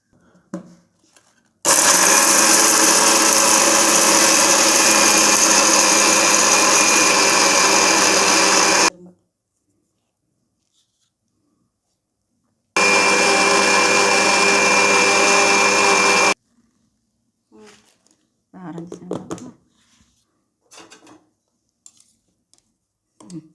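Mixer grinder grinding idli powder runs in two loud, steady whirring bursts, a long one then a shorter one, separated by silence, with a few soft clatters and brief talk in the pauses.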